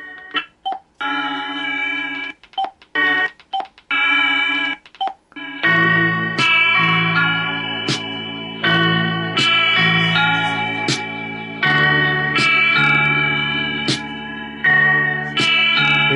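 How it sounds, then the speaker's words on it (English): Music streamed from Spotify plays through a Vtin Q1 portable Bluetooth shower speaker, loud and tonal, opening with choppy stop-start electronic notes before settling into a steadier beat with a bass line and sharp percussive hits. "I'll go ahead and get some music playing on Spotify."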